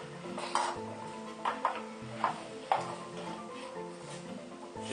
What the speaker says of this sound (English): Okay, so I've just added our potato and our carrot. What I'm doing is I'm mixing them round.